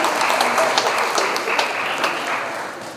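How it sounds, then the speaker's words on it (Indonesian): An audience at a journalism award ceremony gives award winners a dense round of applause that holds steady and then gradually fades. "Berikan tepuk tangan."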